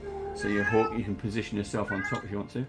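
A pet cat meows repeatedly, its mews mixed in and partly overlapping with a person speaking close by in a casual indoor tabletop game session.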